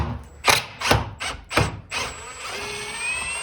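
A screwdriver bit works a screw out of a double-hung window during a replacement job, giving several sharp, close ratcheting bursts followed by a steadier mechanical whir.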